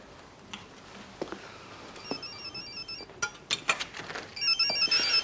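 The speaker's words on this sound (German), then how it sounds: "Nein, ich rufe Silvia an" Telephone ringing on an outgoing call indoors, electronic ring tones entering midway and growing louder toward the end, mixed with faint ticks and clinks in a quiet room.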